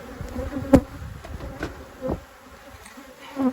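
Carniolan honey bees buzzing around a hive frame where they have clustered, a faint continuous hum with a few louder passes of individual bees close by.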